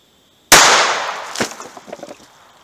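A 40-grain CCI Mini Mag .22 Long Rifle round fired from an NAA Mini revolver at water jugs gives one loud, sharp crack. It rings off in a long decay, followed by a few smaller knocks and thuds.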